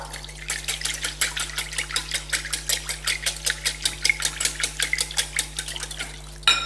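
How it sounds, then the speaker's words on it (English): Chocolate chip muffin batter whisked briskly in a bowl, a fast even run of rhythmic clicking strokes close by, steady for several seconds under a low electrical hum. "just whisk the whole thing up"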